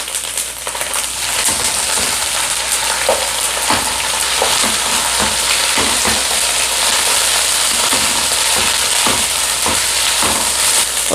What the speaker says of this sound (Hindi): अब इसमें हम अपना चिकन ऐड कर देंगे।